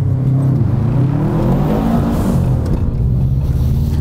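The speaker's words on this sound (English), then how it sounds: "Tall second gear, taller than I'd like. The boost comes on hard." Toyota Hilux pickup on a slippery rally surface, its engine droning loud and close as it accelerates in a tall second gear with turbo boost coming on hard.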